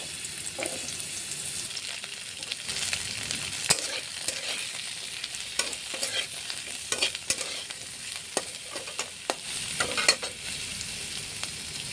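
Pumpkin pieces fry with black cumin in a pan, giving a steady sizzle under repeated scraping and stirring strokes that come close and fairly loud at uneven intervals.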